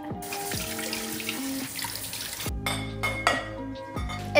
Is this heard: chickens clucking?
no